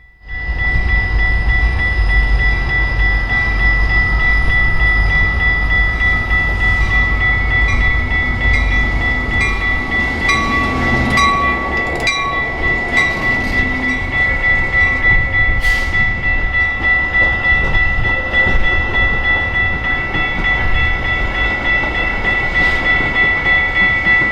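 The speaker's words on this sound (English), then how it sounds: "we have a Metra painted F59 PHI on the Union Pacific lines and an MP36 coming out on the Milwaukee District" Metra commuter trains with F59PHI and MP36 locomotives pass through downtown Chicago, a loud, close, continuous rumble of rolling wagons with clanks and rail squeals throughout.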